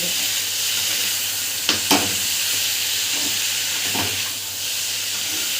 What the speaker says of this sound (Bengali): লঙ্কা গুঁড়ো হলুদ দিকে চিড়ে গুঁড়ো আর সব হলুদ গুঁড়ো ধনে গুঁড়ো এই সমস্ত মশলাগুলো দিয়ে আমি বেশ কিছুক্ষণ ধরে করব